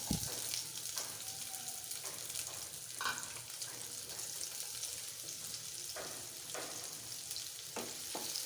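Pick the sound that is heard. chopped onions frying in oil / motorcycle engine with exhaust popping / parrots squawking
chopped onions frying in oil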